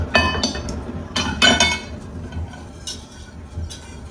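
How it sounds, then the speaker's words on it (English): A utensil scrapes and clinks against a pot while heavy cream is stirred into a butter and flour base for mascarpone mac and cheese, giving several irregular clattering bursts between quieter pauses. "1/2 cup of heavy cream and mix that in as well"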